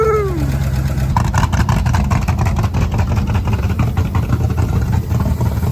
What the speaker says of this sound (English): to hear that 428 roar to life